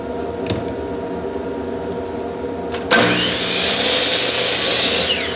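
A power saw bites into wood for hexagon shelves, starting abruptly after a quiet stretch with a few clicks, then a loud, steady whining cut that rises and holds until near the end.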